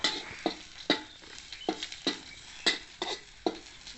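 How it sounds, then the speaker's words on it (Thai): Snow peas stir-fried in a pan give a soft, steady sizzle broken by repeated scraping clicks of a spatula against the pan at an irregular rhythm, all fairly quiet and close. "ผัดถั่วลันเตา"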